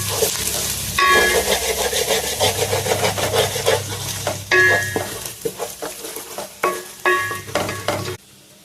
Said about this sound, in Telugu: పచ్చిమిరపకాయ వేసుకుందామండి, 2 పచ్చిమిరపకాయలు.